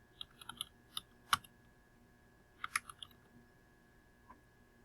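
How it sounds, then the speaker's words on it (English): Computer keyboard typing of a group name: a few short bursts of crisp, close key clicks separated by pauses, over a quiet room hum. "I'm going to type my group name."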